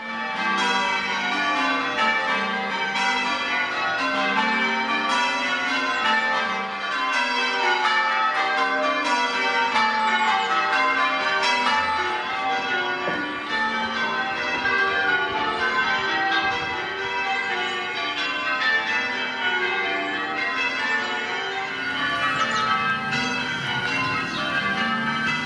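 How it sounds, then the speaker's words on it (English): Church bells peal steadily near Waverley, a dense, continuous wash of overlapping ringing tones that stays loud for the whole stretch with no speech. "the church bells are ringing"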